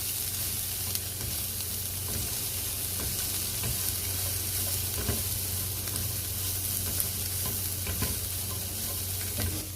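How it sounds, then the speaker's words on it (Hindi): Ingredients sauté in a frying pan, giving a steady, loud sizzle that never lets up, broken only by occasional soft scrapes and stirring clicks, with no talking. "अब हम इन सब चीज़ों को सोते कर लेंगे।"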